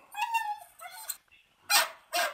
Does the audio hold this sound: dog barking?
yes